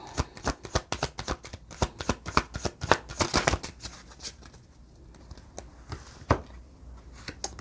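Oracle cards flicked and shuffled in rapid close riffling snaps for several seconds, then a few isolated soft card slaps as one is drawn from the deck, no voices.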